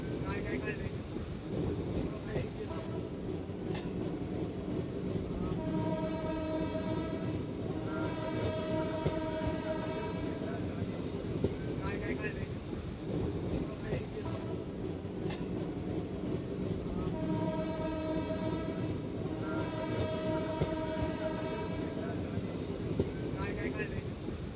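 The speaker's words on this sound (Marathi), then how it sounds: "आता गाडी लोणावळा रेल्वे स्टेशनवरती अरायवल करत आहे" An Intercity Express train pulls into Lonavala railway station, its steady rumble and rolling noise continuous throughout, with two sets of sustained horn-like tones partway through, while a voice talks over it.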